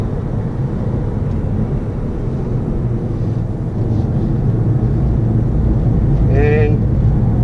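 Volkswagen car racing down the back straight of a lit track at night, heard from on board as a steady, loud broadband engine and road roar throughout, with a brief rising whistle-like tone near the end.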